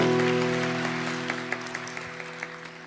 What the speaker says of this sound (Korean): 우리 따뜻한 큰 박수로 우리 교수님 모시겠습니다.